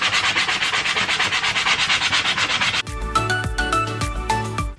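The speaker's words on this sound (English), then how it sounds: "I'm gonna kind of sand a little couple spots here just to make sure everything's smoothed out" Hand sanding on a wooden decor tray, first a rapid steady back-and-forth rasp, then slower, more spaced strokes, close and loud with no speech.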